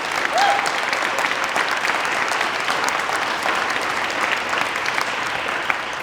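Audience at an endurance event speech applauding, a dense, even wash of clapping that holds steady for several seconds, loud and continuous with no voices on top.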